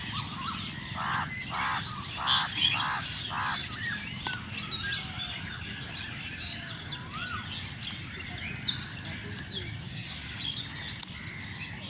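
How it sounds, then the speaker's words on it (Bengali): Crows gather to eat scraps of food, giving a series of loud repeated caws in quick succession early on, followed by scattered softer bird calls and rustling in the background. "কাক এসে গেছে খাওয়ার জন্য,"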